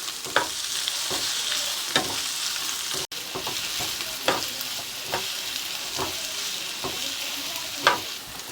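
Curry leaves with crushed ginger and garlic sautéing in hot oil for a vegetable soya biryani, a steady sizzle broken by repeated scraping stirs of a spoon against the pan at a roughly even pace, close and clear with no talking.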